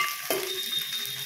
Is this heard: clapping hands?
no